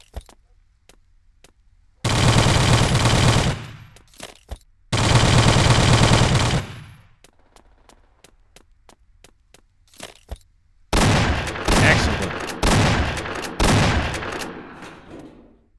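Automatic gunfire from the El Matador video game, with two sustained loud bursts followed by a longer run of rapid shots, separated by quieter gaps with faint clicks.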